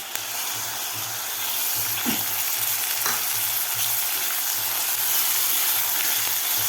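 Chopped tomatoes with onion and ginger-garlic paste sauté in a pan for a spicy village-style toor bean amti, giving a steady, close sizzling hiss with a faint low hum underneath and no voices.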